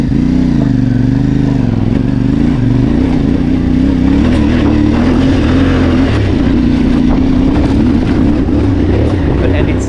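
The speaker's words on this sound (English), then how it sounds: "When I turned on the bike, and it sounds just like the T7, like it's a twin cylinder with a 270 degree crank arrangement." CFMoto 450MT IBEX twin-cylinder motorcycle engine idles and revs loudly up close, a continuous throbbing drone that rises and falls slightly across the clip.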